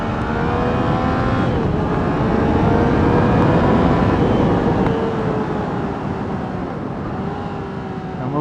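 Yamaha XSR motorcycle shifting down a gear and accelerating away, a loud continuous engine roar with rising pitch sweeps heard up close, mixed with steady wind rush and no talking.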